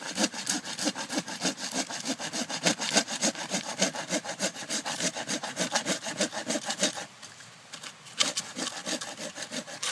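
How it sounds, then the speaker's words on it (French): Steady back-and-forth strokes of a hand saw cutting wood at a bushcraft bivouac camp, close and loud with a regular rhythm, pausing briefly near the end before resuming; no talking. "Direct il coupe du bois."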